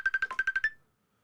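A phone rings with a short run of rapid, evenly spaced electronic trills, close and clear, then stops.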